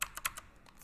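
A quick run of four or five sharp keyboard key presses close to the mic, then softer taps fading out, on a computer keyboard during a live PC gaming stream, with no voices.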